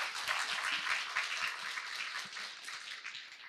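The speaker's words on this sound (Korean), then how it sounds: "여러분 박수 한번 다시 부탁드리겠습니다" A studio audience at a Korean talk show applauds in a dense, even round of clapping. It stays fairly soft and steady throughout.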